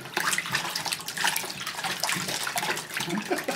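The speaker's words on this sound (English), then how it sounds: "Are you splashing in the tubby?" A child splashes water in a bathtub, with steady, busy sloshing and slapping of water that continues throughout at close range.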